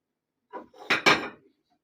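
A plate is taken out in a home kitchen: a short clatter of dishes with a couple of close, bright ceramic knocks lasting about a second, alone with no talking.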